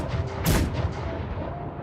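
A single heavy cannon boom from a video game, distant, bursts out over a steady rumbling background, sharp at first and then fading into the din.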